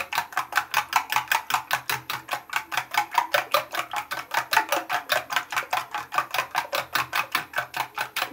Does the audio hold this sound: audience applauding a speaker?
no